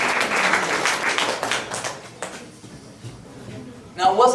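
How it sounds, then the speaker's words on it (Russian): An audience at a church service applauds, a dense wash of clapping that is loudest at first and then thins and fades, with a brief louder burst of sound near the end. "Аплодисменты"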